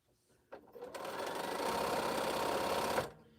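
Sewing machine stitching pieces of an Exploding Star quilt: after a soft click, the motor whirs up and runs as a steady, close, buzzing stitch for about two and a half seconds, then stops.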